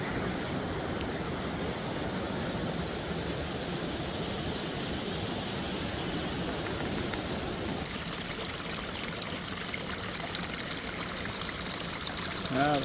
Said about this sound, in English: Ah, the sound of trickling water.